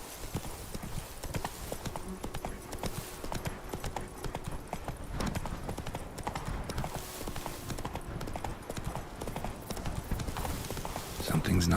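Hooves of Roach, a horse in The Witcher: Wild Hunt game, clip-clopping in a steady trot through quiet night streets, fairly close and continuous, with a voice talking over parts of it.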